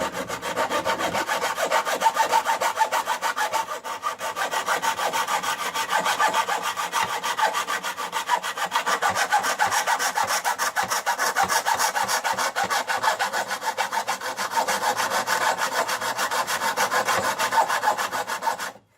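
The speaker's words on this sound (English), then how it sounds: "care if I saw this box in half." A hand saw rasps through a wooden box in a steady, fast back-and-forth rhythm, close and continuous for the whole stretch with no talking.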